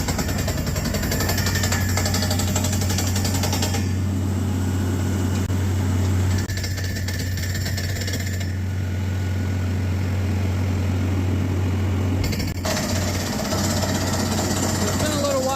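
A heavy water well drilling rig bores through sand, running loudly with a low mechanical drone and rattling, its engine pitch shifting partway through, while people talk over it.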